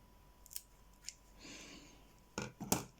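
Scissors make a few crisp, close snips through craft paper for a festive snowman craft, with a soft sliding rustle between the cuts and no talk.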